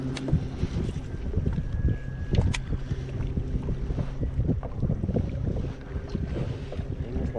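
Wind gusting across Sherbot Lake during a kayak bass fishing tournament, a steady broadband rush and low buffeting rumble on the microphone that continues without pause, with no voices.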